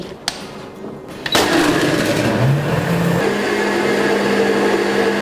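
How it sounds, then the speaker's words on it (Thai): An electric blender crushing ice for a Bear Brand milk smoothie starts with a couple of clicks, then kicks into a loud steady whirring drone whose pitch rises and settles as it runs. "ปิดฝาเตรียมตัวปั่นกันได้เลยค่ะ"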